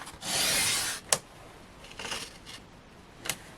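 Card stock is sliced on a paper trimmer in a quiet craft setting: one long scraping pass, a sharp click, then a couple of shorter rasping strokes, all close and fairly soft.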